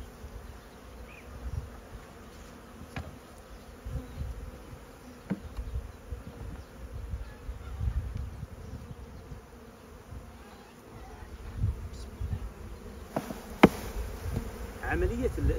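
Honeybees are being shaken off a hive frame of honey and brood. A soft, continuous buzz of many insects hums close by, with a few faint knocks and handling sounds and no clear speech.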